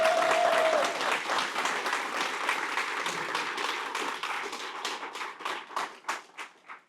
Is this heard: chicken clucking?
no